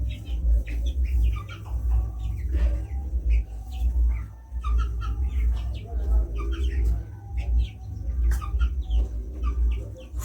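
Four-week-old broiler chickens cluck and peep in a steady flock chorus, with soft overlapping calls and chirps close by over a constant low rumble.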